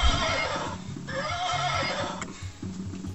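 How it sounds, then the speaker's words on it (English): Horse neigh sound effect: one long, loud whinny that wavers in pitch with soft hoof clip-clops underneath, running the whole time without any voices. "I need to make the horse do the noise."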